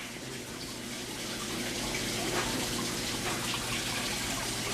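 Tap water runs through a Python tank cleaner to refill a fish tank, making a steady rushing, splashing flow over a low, constant hum.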